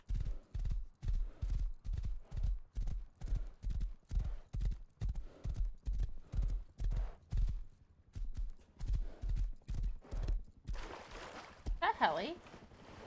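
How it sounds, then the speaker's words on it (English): Horse hooves clip-clop in a steady, even rhythm in the video game Rust, close and loud throughout, with a brief whinny-like sound near the end. "Oh, another horse."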